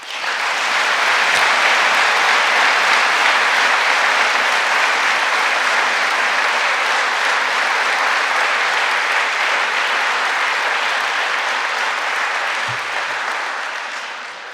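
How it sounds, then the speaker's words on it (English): Sustained, loud applause from a crowd at a college athletic hall of fame induction ceremony, a dense steady clapping that lasts throughout and tapers slightly at the end. "Let's give one more big round of applause for our class of 2021."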